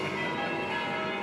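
Small bells ring continuously, a steady bright shimmer of sustained tones that holds at an even level for the whole short moment, with no voices over them.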